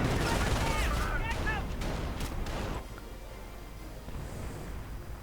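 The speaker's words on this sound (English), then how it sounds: "the howitzer just blasting away. Getting suppressed right here by the MG." A howitzer booms and a machine gun rattles in a 1v1 strategy video game battle: dense, overlapping blasts and bursts, loud at first and then easing, with a commentator talking over them.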